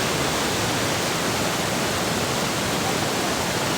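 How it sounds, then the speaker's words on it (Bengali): Clear, cold river water rushes and foams near Bhatinda Waterfalls in Dhanbad, a steady, even roar of flowing water with no pauses and no talking. "কি সুন্দর ঠান্ডা জল, একদম স্বচ্ছ জল, সাদা ফেনায় ভর্তি"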